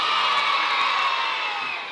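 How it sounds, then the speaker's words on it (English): An audience at a school jazz assembly cheers and whoops for a musician, a dense, steady roar of many voices that holds for about two seconds and fades slightly at the end. "Can I get a cheer for Brian?"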